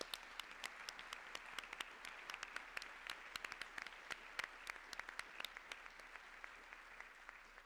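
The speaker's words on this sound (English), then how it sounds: "Join me for a round of applause." Audience applause at a women in public leadership event fills the room, a steady wash of many hands with sharper individual claps popping through, moderately distant and continuous for several seconds.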